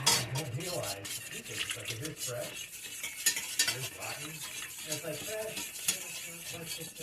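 A spoon stirs food in a pot during Thanksgiving dinner cooking, a soft, close scraping and rubbing in repeated strokes, quiet and with faint voices in the background.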